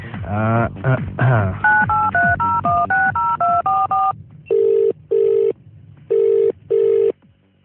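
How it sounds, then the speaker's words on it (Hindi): A rapid run of touch-tone keypad beeps, followed by several long, evenly spaced ringback tones on the line. "तो नंबर घुमाया जाए"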